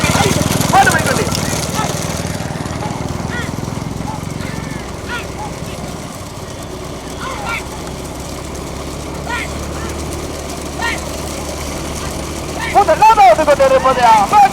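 Several motorbike engines drone steadily in a rural bullock-cart race setting, loud and close, with a busy crowd and talk over them.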